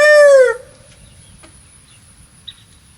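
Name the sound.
rooster crowing and chickens clucking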